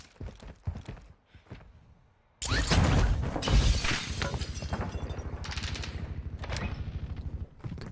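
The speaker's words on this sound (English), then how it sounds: "Gunshots." Gunfire in Call of Duty: Modern Warfare 2 multiplayer, a sudden loud burst of rapid shots after quieter clicks and footsteps, continuing as fast repeated automatic fire with sharp cracks.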